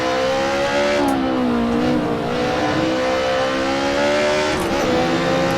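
A touring car braking hard at Mugello in the racing game Assetto Corsa: a continuous engine drone dips and shifts in pitch as speed drops, with a faint tire squeal, loud and steady throughout.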